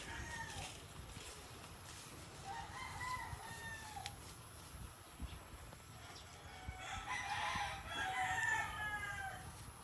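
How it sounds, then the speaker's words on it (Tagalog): Roosters crow and chickens cluck at a distance from a neighbor's yard over steady outdoor background noise, with the crowing growing louder toward the end. "makita mo doon mga manok"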